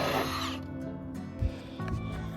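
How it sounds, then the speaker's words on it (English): A power tool whirs and strains against the last rusted bolt on a crashed Ford Ranger, its close buzzing motor winding down and catching again with a brief knock partway through. "getting the last bolt off"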